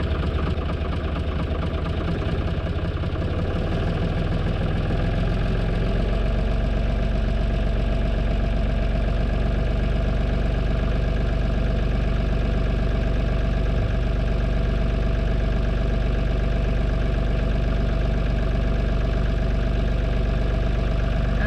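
Valmet 505T tractor diesel engine revving up from idle to raised RPM, a loud, close, continuous rumbling drone with a steady knocking pulse that holds at the higher speed, with no talk.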